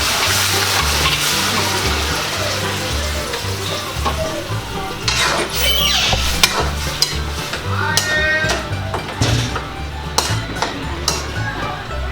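Tenderized beef added to a pan of softened garlic and onion for beef pochero, a steady close sizzle with stirring clinks and scrapes throughout.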